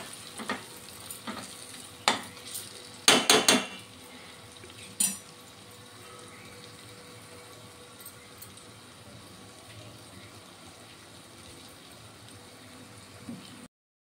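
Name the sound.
drumstick pieces frying in oil with masala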